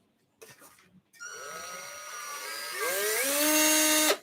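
After a few brief clicks, a cordless drill's motor spins up with a whining tone that climbs in pitch, then ramps higher again and holds a steady, fairly loud whir before cutting off.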